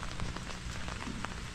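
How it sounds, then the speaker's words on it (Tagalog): Steady rain falls outdoors in the Philippines after days of downpour, a faint continuous patter of drops on surfaces with no voices. "Magdamag ang ulan po dito."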